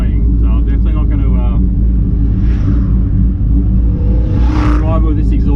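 A turbocharged Ford XG ute engine with a loud exhaust rumbles close by in a deep, steady drone, swelling into whooshing surges as it picks up, and someone talks over it at the start.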